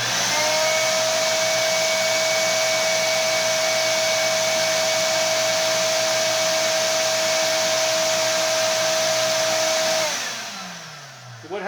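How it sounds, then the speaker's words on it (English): A shop vac in a DIY mouse trap system runs as a steady, loud, close whine for about ten seconds, then winds down with a falling pitch as the motor shuts off. "when the shop vac was done with its 10-second on time"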